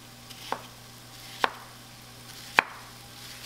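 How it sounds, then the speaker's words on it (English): A knife dices one large onion on a cutting board, giving four sharp, isolated chops spaced about a second apart, fairly faint, with a low steady hum underneath and no voices. "just dicing up our onion really quick here"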